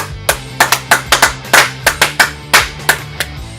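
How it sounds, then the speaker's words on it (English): A single person claps about a dozen times in an uneven rhythm, each sharp, close slap standing out clearly over a low steady musical drone. "we're going to give him a clap anyway"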